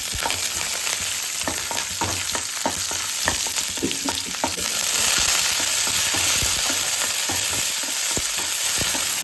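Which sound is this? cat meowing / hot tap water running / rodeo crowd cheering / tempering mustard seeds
tempering mustard seeds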